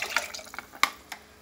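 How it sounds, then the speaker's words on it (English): Chickpea cooking water is poured into a pan for an Indian-style chickpea and lentil soup, a soft, close splashy trickle broken by a few sharper drips and splashes. "we're going to add the cooking water from the chickpeas"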